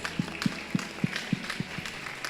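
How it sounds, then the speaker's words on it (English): At a British Pakistani awards ceremony, an audience gives an award winner applause heard as a faint, fairly distant wash of clapping with a steady run of thuds beneath it. "A big round of applause for Dr. Mohammed Usman"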